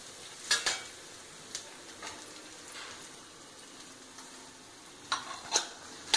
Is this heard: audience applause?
no